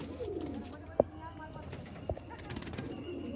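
Malwai pigeons cooing in low, soft rolling calls close by, with a sharp click and a brief knock, while a person speaks quietly in the background.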